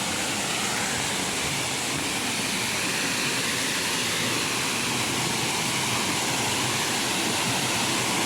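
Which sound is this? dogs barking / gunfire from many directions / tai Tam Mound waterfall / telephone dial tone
tai Tam Mound waterfall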